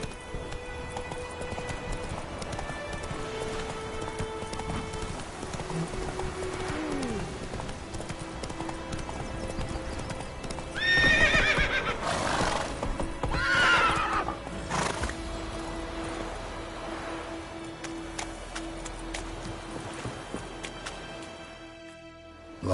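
In The Witcher 3, a horse's hooves clip-clop steadily while ridden, with a loud whinny midway and ambient game sounds and character voices layered around the rhythmic hoofbeats.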